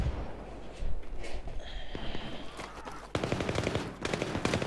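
Bursts of automatic gunfire in Battlefield 3 on the Metro map, with rapid close rattling shots that start and stop, then a dense sustained burst later on.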